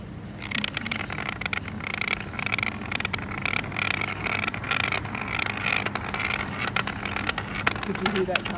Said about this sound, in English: Did you hear that car?